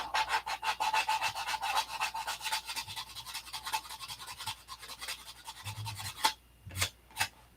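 Open-handed sanding of a cowl by hand: a steady run of quick, rhythmic rasping strokes, close and fairly soft, ending with a few sharper knocks and scrapes.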